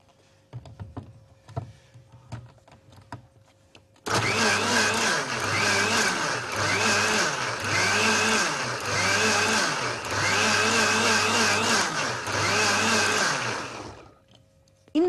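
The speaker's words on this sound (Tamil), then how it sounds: "ஸோ வாங்க மிக்சியில இதை அரைச்சிடலாம்." A mixie grinder blending soaked ingredients with water cuts in abruptly with a loud, close, steady whirring roar that pulses in regular waves for about ten seconds before shutting off.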